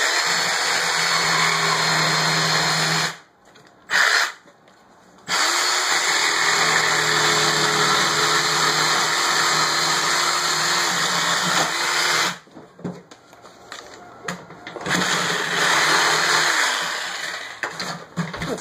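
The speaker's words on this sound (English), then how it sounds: "get the jigsaw here, just cut that piece out" A jigsaw cuts a piece out of the back of a wooden drawer, a loud continuous buzzing whine that stops briefly twice early on, then ends in short stuttering bursts as the cut finishes.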